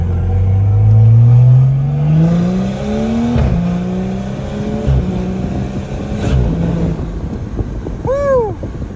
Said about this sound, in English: Absolutely in love with these downshifts. Let's just listen to them.